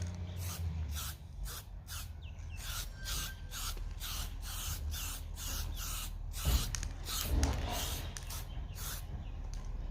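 An aerosol spray-paint can lays light coats on a grill, heard as a regular series of short, close hissing bursts separated by brief pauses.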